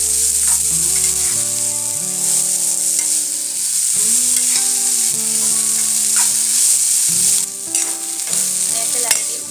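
Fish pieces fry in a pan with a steady, loud sizzle, broken by bursts of stirring and scraping throughout, close up and with no talk.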